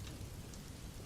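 Steady rain falling outdoors at night, a dense, even hiss of drops with a low rumbling undertone and no voices.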